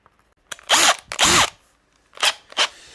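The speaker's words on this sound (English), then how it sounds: "I'm going to use a good quality 3 mil drill bit to drill down through those holes." A power drill with a 3 mm bit whirs in two long bursts, then two shorter ones, each spinning up and winding down, close by with no talking.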